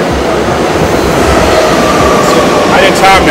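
A New York City subway train rumbles past near Wall Street, a loud continuous roar with metallic wheel squeal building toward the end.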